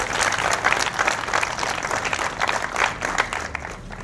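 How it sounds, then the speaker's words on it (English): Crowd applause rolls steadily at a downtown trolley ribbon cutting ceremony in 2014, a dense continuous patter of many hands clapping at even loudness for about four seconds. "So give those two people a round of applause."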